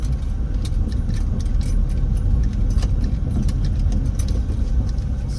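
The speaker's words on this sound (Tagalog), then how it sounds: "Traffic sila." Road traffic on the way to Sunday mass, heard from inside a car: a steady low engine and road rumble with faint rattling and ticking on top, continuous and fairly loud.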